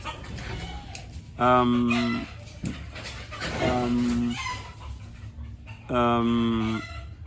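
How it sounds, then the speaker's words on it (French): Agitated hens cluck and a rooster crows repeatedly in bursts, under and between a person talking nearby. "il y a les poules, les coqs qui sont très agités"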